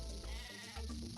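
A sheep bleats in the Game Boy Advance game Tak and the Power of Juju, a short, wavering animal cry heard clearly over a constant musical background.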